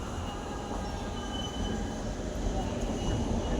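A metro train during a busy morning commute, heard as steady, loud rumbling rail noise with a constant low roar that swells slightly toward the end.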